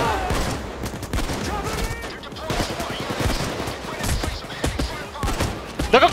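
Rapid gunfire in the video game Payday 2 crackles in dense, overlapping volleys throughout, with sharp shots and bursts stacking up, a louder cluster near the end, and voices faintly mixed in.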